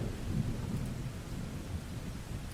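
A thunderstorm sound effect plays as a steady, faint low rumble with a rain-like hiss that stays even throughout, with no voices.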